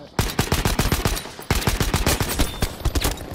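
Rapid bursts of automatic gunfire from Battlefield 5 on the Provence map, dense repeated shots in two volleys with a brief break, loud and close.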